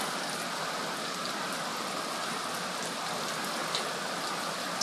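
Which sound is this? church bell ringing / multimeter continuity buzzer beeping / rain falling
rain falling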